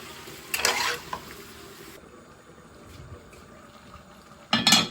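Chicken frying in hot oil in a home kitchen gives two loud bursts of sizzling and stirring, one early and one at the end, with a quieter low crackle in between.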